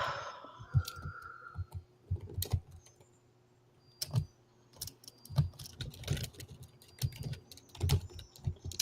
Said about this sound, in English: And we can hear you typing, Rob.